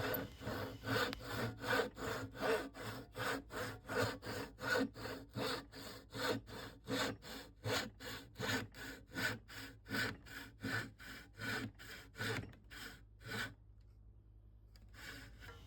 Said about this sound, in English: Now it's set and sharpened, let's see how the saw performs.